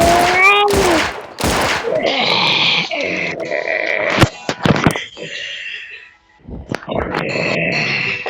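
Several loud gunshots burst out in quick succession, followed by a jumble of thuds, clatter and a short voice amid the action.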